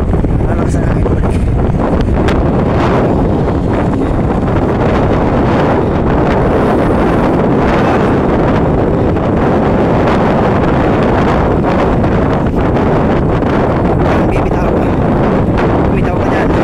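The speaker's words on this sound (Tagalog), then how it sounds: "Malakas ang hangin pabalik." Strong wind roars and buffets the microphone without letup, a heavy rushing noise that drowns out everything else.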